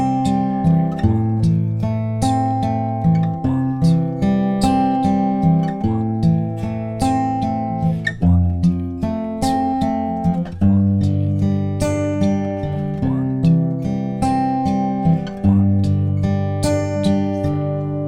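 Acoustic guitar fingerpicking the verse chords of a song: steady rolling arpeggios with ringing bass notes, close and clear and played alone, with no talking.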